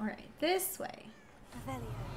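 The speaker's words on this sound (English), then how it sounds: "I just think that's a cat." Cat meowing in the video game Hogwarts Legacy, a few short rising calls in the background while a player talks over them.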